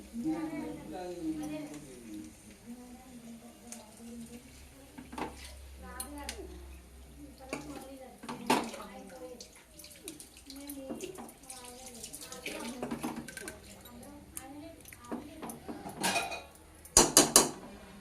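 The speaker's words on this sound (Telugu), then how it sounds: "చేప ముక్కలు ఆ బౌల్ సరిపోవట్లేదని మార్చుతున్నారండి దీంట్లోకి" Pieces of bochu fish shifted from one bowl into another cooking vessel, giving soft scrapes, light clinks of metal and ceramic and small wet knocks, with a sharper clatter at the end, fairly quiet throughout.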